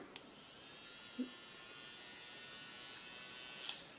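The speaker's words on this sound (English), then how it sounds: "And I have my electric eraser." A small handheld electric eraser buzzes steadily and faintly with a high, thin whine, framed by a couple of soft clicks at its start and end.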